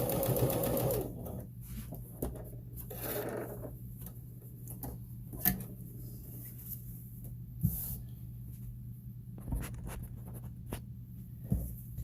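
A sewing machine runs steadily as it stitches a seam about a quarter inch in along the top edge of fabric for a face mask, with a constant hum broken by a few brief clicks and bumps. No one speaks.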